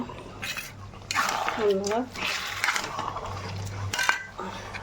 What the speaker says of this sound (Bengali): এবার পোস্ত কাজু বাটাটা আমি এর মধ্যে দিয়ে একটু ভালো করে নাড়াবো এটা একটু কষিয়ে নেবো ভালো করে